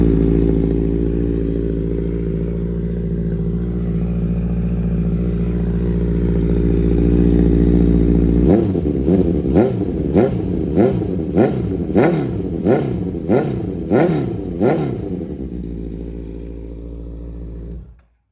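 A 2017 Honda CB650F motorcycle with a loud aftermarket exhaust idles with a deep, close rumble, then gets about eight sharp throttle blips that rise and fall before the engine cuts off.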